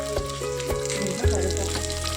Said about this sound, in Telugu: ఇవన్నీ మనం ఇలా తాలింపు వేసుకొని కలుపుకోవాలి